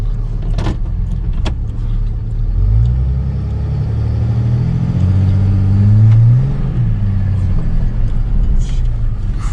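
A Chrysler car engine rumbles at idle, then revs up in two low swells before settling, with a few sharp clicks and knocks near the start.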